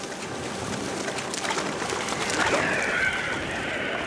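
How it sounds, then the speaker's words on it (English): A white-chinned petrel calling at the sea surface, a brief bird call heard over steady background noise. "White-chinned petrel."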